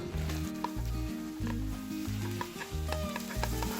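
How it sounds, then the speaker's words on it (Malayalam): Onions and green chillies with fennel seeds and crushed ginger-garlic sauté in a frying pan, a steady sizzle, with a regular stirring scrape over a low, patterned background of music. "ഇതൊന്ന് വഴറ്റണം."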